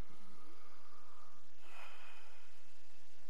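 Breathing during a doctor's exam in Red Dead Redemption 2, heard as a single sharp nasal inhale or snort followed by a soft exhale, close and brief over a quiet background.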